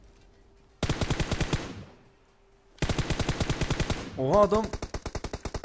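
Rapid bursts of automatic machine gun fire in the video game PUBG Mobile, two loud rattling volleys separated by a pause, with a brief excited voice cutting in near the end.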